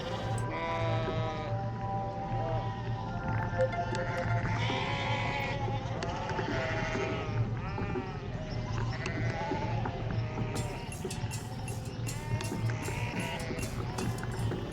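A flock of sheep bleats loudly and continuously along a rural track in Canterbury, New Zealand. Many overlapping calls come from close by over a constant low engine drone, with scattered hoof clatter as the animals move.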